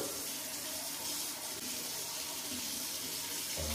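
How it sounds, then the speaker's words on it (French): Hot water pours steadily from a tap into a sink, a constant, even rush of flow with no talk over it. "On va faire couler les eaux chaudes."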